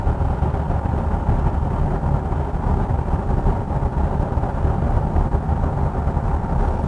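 Steady low road and engine rumble inside a Hyundai Grandeur GN7 AWD cruising at 75 km/h with every window closed, a constant muffled broadband hum with no voices.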